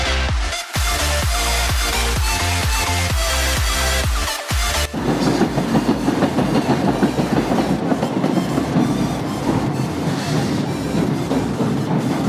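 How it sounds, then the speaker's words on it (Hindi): A train rolls past a railway crossing in rural Chhattisgarh, loud and close, with steady rhythmic wheel clatter over the rail joints giving way to a dense, rushing roar as the cars stream by. "तीसरा ट्रेन भी आवत है भी आप मन देख सकते हो।"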